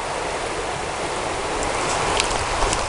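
A forest creek in gold-prospecting country flows steadily, a dense continuous rush and babble of water with no pauses, fairly loud and close, with no voices.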